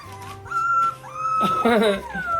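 High, thin whimpers and squeaks from small Belgian Malinois puppies rise and fall over a couple of seconds, close by, with faint background noise.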